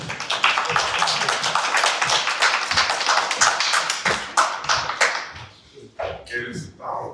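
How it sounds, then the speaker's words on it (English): A room of people at a film festival Q&A claps steadily for several seconds, the applause thinning out toward the end as a few voices speak. "Give him a round of applause."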